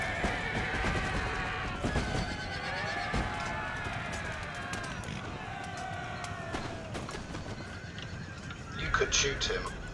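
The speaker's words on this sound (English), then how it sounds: "All of you are now exposed to this charging cavalry unit." Cavalry horses neigh and whinny during a charge in the Empire: Total War battle, layered with galloping hoofbeats and battle noise, steady throughout with a louder burst near the end; talk runs underneath.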